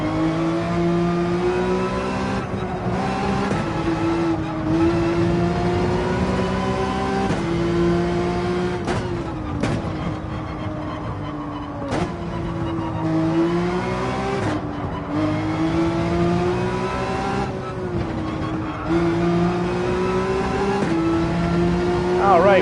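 Porsche 911 race car in Gran Turismo 7 accelerating flat out, its engine note climbing steadily and dropping sharply at each gear shift, loud and continuous with a voice talking over it.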